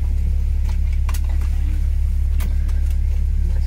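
A glacier tour vehicle reverses on a mountain road near the Columbia Icefield in Alberta, its engine giving a steady, loud low rumble throughout, with a few faint clicks and knocks above it and no talking.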